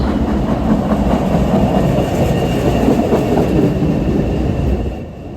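A new MBTA Red Line subway train arriving at a station, loud steady rumble and clatter of wheels on rails that eases off at the end, with no talk.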